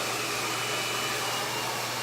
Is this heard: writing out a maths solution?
no